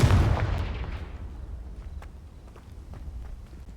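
A Confringo fire spell goes off in Hogwarts Legacy: one loud, close blast at the very start that fades into a long, rumbling decay, with a few faint thuds after it.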